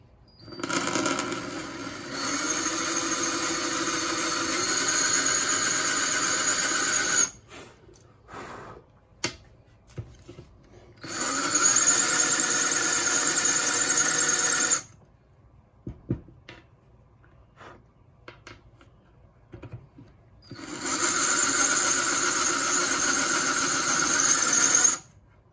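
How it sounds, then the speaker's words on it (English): A small drill bit bores through a bead in three sustained bursts of steady whining, each several seconds long, separated by quieter gaps with small handling clicks. "we can take our smallest drill bit and start drilling."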